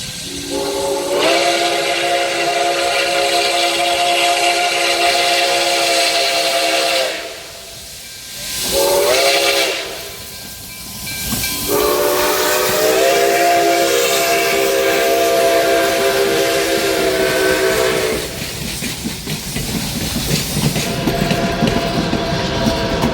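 Nickel Plate 765 steam locomotive in Indiana sounds long, loud steam whistle blasts separated by two short breaks, with steady hiss of steam running throughout.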